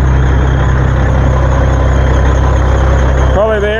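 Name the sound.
Peterbilt truck engine idling, loose air conditioner belt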